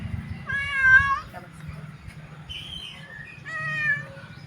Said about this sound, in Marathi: दूध आणले ना त्यामुळं मानू म्याऊ